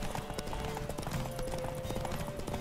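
Horse hooves galloping at speed during a race in The Witcher 3: Wild Hunt, with rapid steady clip-clop beats under a dense layer of game sound and music, loud and close throughout.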